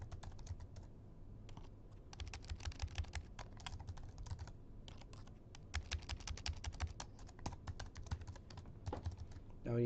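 Quick typing on a computer keyboard during a game-modding session, dense runs of close, crisp key clicks with short pauses between bursts, and a brief voice fragment at the very end.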